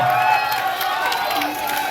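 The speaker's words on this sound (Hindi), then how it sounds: "तालियों की गड़गड़ाहट रुकनी नहीं चाहिए" A large student audience at a college induction ceremony at an engineering college in Munger keeps up dense, continuous applause mixed with cheering and whoops, filling the hall at a steady level.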